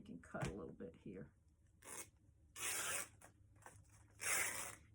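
Scissors or ribbon material cut for a greenery ornament bow, several short rasping snips and tearing swipes close by, faint and quiet, after someone speaks briefly at the start.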